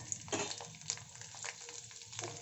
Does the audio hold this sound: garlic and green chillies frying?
yes